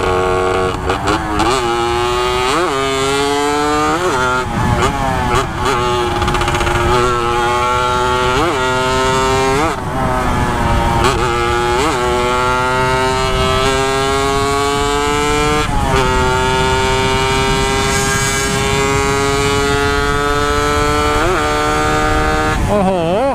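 A Honda Nova motorcycle revs loud and close as it is ridden, its engine pitch climbing and dropping through repeated gear changes, a buzzing two-stroke whine that runs throughout.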